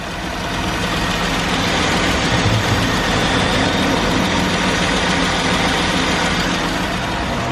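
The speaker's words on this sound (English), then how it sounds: "there's a little tick coming from the motor. Almost sounds like a diesel." A Dodge Durango engine idles with a steady, loud low rumble and a faint tick from the motor, running without pause and with no talking.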